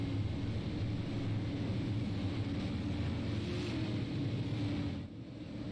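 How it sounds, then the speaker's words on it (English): Super late model race car engines at Nashville Fairgrounds rumble in a dense, steady drone, several cars blending into one loud, broadband roar that dips briefly near the end, with no voices. "You hear the engines roaring, they're revving, they're itching, they're ready to go here in Nashville."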